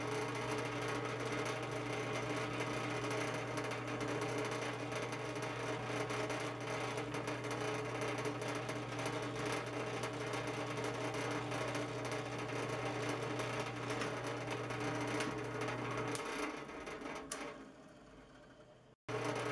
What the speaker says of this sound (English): Then I make small pilot holes, then enlarge them to 5/32.